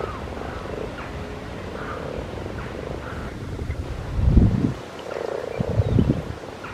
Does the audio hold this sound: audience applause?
no